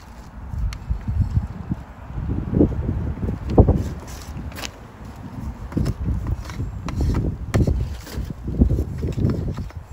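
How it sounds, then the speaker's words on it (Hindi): Strong gusty wind blowing through a garden, buffeting the microphone with uneven low rumbling surges that rise and fall throughout, with no talking. "काफ़ी तेज़ हवा चल रही है आज।"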